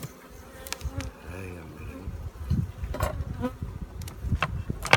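Spring honeybees swarm densely around an opened hive during inspection, a continuous mid-loud buzzing drone filling the whole span with a few sharper close fly-by passes.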